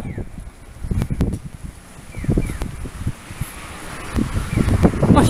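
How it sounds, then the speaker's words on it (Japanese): An east wind blows during an outdoor walk in Fukuroi, Japan, giving uneven rumbling gusts and rustling close to the microphone, rising and falling throughout, with no talking. "コチが吹いてるね。"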